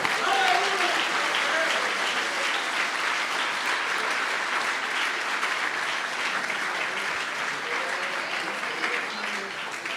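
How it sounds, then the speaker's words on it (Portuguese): Church congregation clapping in praise, a dense, steady wash of applause from many hands sustained throughout, with faint voices mixed underneath. "As palmas, louve ao Senhor."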